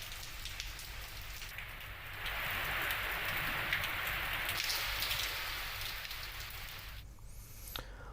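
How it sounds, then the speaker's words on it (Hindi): Heavy downpour in Valmiki Nagar, Bihar, a dense steady hiss of rain on surfaces that swells louder midway and then eases, with no voices present. "वाल्मीकि नगर और आसपास के इलाकों में आज सुबह से ही मूसलाधार बारिश जारी है।"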